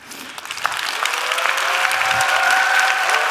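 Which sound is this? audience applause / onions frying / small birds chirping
audience applause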